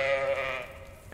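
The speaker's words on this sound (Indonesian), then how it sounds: "ada kambing lagi, cok." A goat bleats in the video game Goat Simulator 3. One drawn-out, loud, wavering cry fills the short moment on its own.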